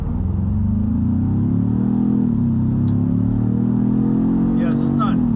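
A Ford Bronco with a 2.7-liter engine accelerating, its deep, steady rumble rising and shifting in pitch as it picks up speed, heard from close by throughout.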